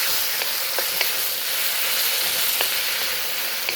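Marinated beef sizzling in a hot pan for sweet and spicy Szechuan beef: a loud, constant close frying hiss with occasional small pops and stirring taps, no talking.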